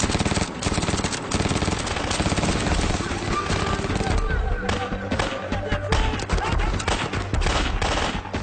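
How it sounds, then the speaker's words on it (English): An M249 SAW light machine gun fires suppressive fire in long, rapid bursts of dense, loud automatic gunfire, with a voice speaking over part of the shooting. "The SAW's job is to keep the enemy pinned down. It has a firing rate of nearly 800 rounds a minute."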